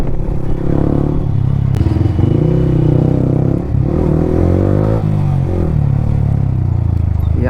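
A Yamaha R15 V3 motorcycle fitted with an Akrapovic R9 exhaust and no dB killer rides at night during a festival, its engine droning steadily and loudly close by with rising and falling rev tones throughout.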